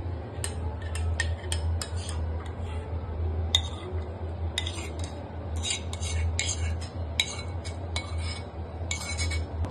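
Oats cerelac spooned into a bowl sets off repeated light clinks and ticks of the spoon against the bowl over a steady low background hum.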